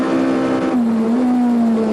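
A Sassel VW Golf rally car drives a special stage at the 2001 Total Rally South Africa, its engine holding a loud, steady high drone that dips briefly as it shifts, close and without talk.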